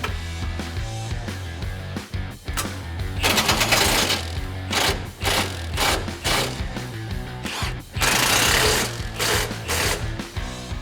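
Rapid mechanical clicking from a ratchet turning nuts on a threaded bolt to spread a coilover on a 2017 Silverado 1500 comes in bursts, stopping and starting repeatedly, close and fairly loud, with short pauses between runs.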